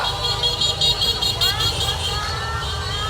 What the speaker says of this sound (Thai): บีบแตรครับกดแตรเลยครับ